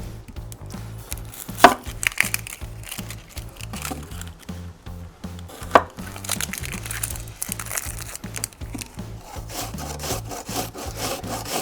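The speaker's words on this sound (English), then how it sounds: "Now we'll grate in 1 onion." Onion grated for Korean kalbi beef short rib marinade: a steady rhythmic rasping scrape of onion against a grater, back-and-forth strokes repeating close by with a few sharper knocks, no talking.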